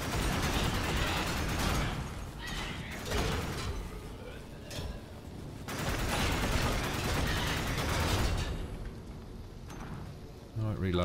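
Bursts of gunfire and mechanical clatter from the video game Warframe while shooting enemies, loud and dense at times, broken by quieter gaps, with talking over parts of it.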